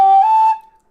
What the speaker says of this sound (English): When I bought my Howard, this is my first whistle.